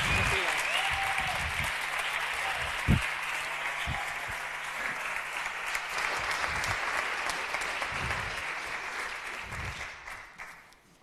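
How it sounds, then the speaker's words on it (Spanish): A large audience at a book event claps steadily and loudly for several seconds, with faint cheering underneath, before the applause tapers off at the end. "recibe este fuerte aplauso"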